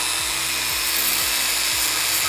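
A drill press turns at low speed in a workshop, giving a loud, steady whirring drone with a repeating low rhythmic thump, up close and without any talk.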